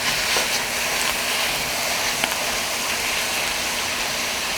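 Ground beef browning in a pan gives off a steady, loud, even sizzle that holds throughout with no pauses and no voices.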